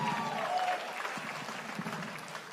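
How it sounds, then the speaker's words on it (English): An audience at the Samoana Jazz & Arts Festival applauds a military band's drum set player, steady moderate clapping and crowd noise heard from a distance throughout, with a brief tone early on. "how about a round of applause for, let me get out of his way here, Technical Sergeant Wilfredo Cruz on the drum set"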